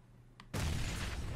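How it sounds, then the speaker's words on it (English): A frag grenade exploding right beside the player in PUBG, a sudden loud, close blast that cuts in after quiet ambience and rumbles on without fading. "that was a frag"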